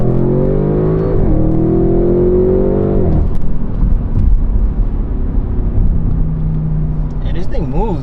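Audi RS6 engine revving from inside the car, a strong rising harmonic drone for about three seconds, then dropping into rougher rumbling with exhaust burbles and crackle, with people talking over it.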